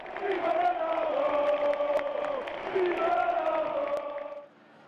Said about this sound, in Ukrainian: Тільки увесь цей негатив розчиниться в оплесках та піснях Віва Роналду